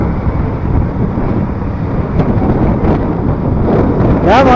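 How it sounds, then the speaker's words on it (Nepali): Wind buffets the microphone in a steady, loud, rumbling roar outdoors near a crowded temple gate in Palpa on New Year, with faint voices from the crowd underneath. "हावा चलो है"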